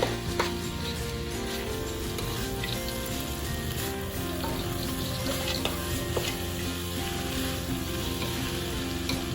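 Pork filling for tapioca dumplings being stir-fried in a pan, a dense continuous sizzle with the scrape of a spatula stirring throughout, loud and close, no talking.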